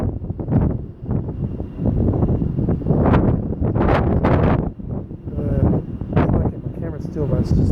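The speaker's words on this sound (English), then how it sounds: "Still, but it's just windy." Wind on a Tasmanian roadside buffets the microphone in heavy, uneven low gusts that rise and fall over several seconds, with a person talking beneath the roar.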